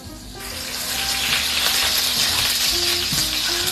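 Olive oil and a few pats of butter sizzle steadily in a pan on high heat, a dense, continuous hiss that swells in the first second and then holds loud and close, with no talking.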